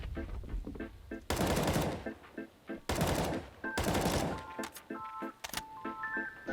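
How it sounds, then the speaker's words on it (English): Bursts of automatic rifle fire in the video game CS:GO, shooting through a wall on the Vertigo map, with several loud sprays separated by short gaps and scattered single shots between them. "When ZywOo is playing towards short, he likes to wallbang this yellow wall."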